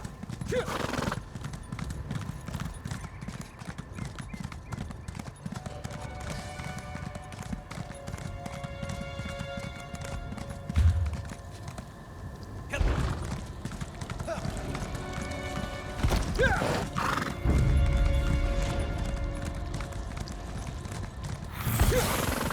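Horse hooves clip-clop at a steady riding gait through a snowy Western Skyrim zone in The Elder Scrolls Online, running continuously alongside game music with an occasional whinny and some voices in the mix.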